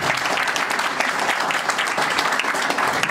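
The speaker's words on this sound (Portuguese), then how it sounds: "Um grande aplauso." Audience applause after a piano and violin recital: dense, steady clapping from a full room that fills the whole stretch at an even, loud level.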